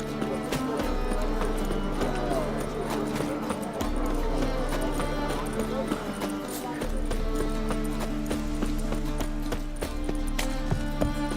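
A horse clip-clops at a steady walking rhythm in The Witcher 3 video game, hoofbeats clear and near over a constant tonal background bed.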